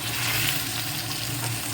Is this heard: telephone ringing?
no